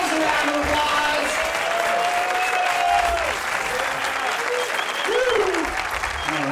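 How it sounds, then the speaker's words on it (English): Loud applause from a comedy club audience at a venue in Fairfax, California, dense clapping with whoops and cheers sustained throughout while voices call out above it. "Give yourselves a round of applause."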